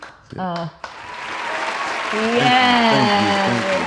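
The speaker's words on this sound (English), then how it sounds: "I also have some applause." Recorded applause plays as a sound effect on a talk show, rising into a steady wash of clapping and cheering after a brief spoken bit at the start.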